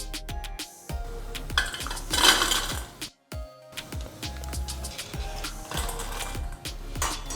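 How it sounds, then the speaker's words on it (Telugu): A slotted metal ladle scrapes and clinks against a pan while lifting fried potatoes out of hot oil, giving a run of sharp, close metallic knocks and rattles with a brief gap in the middle. "ఇప్పుడు ఒక చిల్లులు గరిటతో ఈ విధంగా తీసేసుకుందాం"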